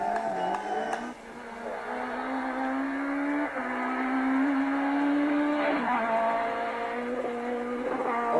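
A rally car accelerates on a stage, its engine climbing in pitch through several gear changes with brief drops between shifts, loud and fairly close throughout.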